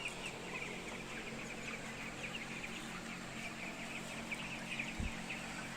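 Broiler chickens suffering from cekrek respiratory disease cluck steadily in a poultry house, with a constant background hum and a brief low thump near the end.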